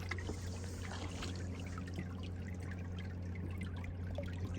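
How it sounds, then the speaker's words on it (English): Faint water droplets trickle and patter from a kayak on a lake, soft and irregular over a steady low background hum, with no talking. "You can hear the water droplets."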